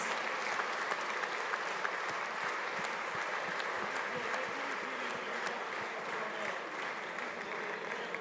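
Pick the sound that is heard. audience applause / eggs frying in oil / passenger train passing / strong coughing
audience applause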